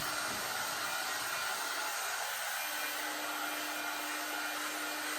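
Heat gun blowing hot air onto a Morris 1000 seat cover during webbing and padding replacement: a steady, close, broadband hiss of airflow that carries on unbroken, with a faint whine settling in partway through.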